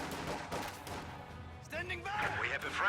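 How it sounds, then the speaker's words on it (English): Rifle fire from Riflemen in the strategy game Reign, several rapid shots popping over a steady low battle rumble, bunched toward the end. "3 Riflemen are currently shooting at them."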